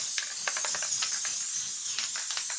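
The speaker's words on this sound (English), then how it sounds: "spray it all over with the spray adhesive." Spray adhesive from an aerosol can misted over a heavier fabric for a DIY collapsible dice tray, sounding as a string of short, close hissing bursts over a soft steady hiss.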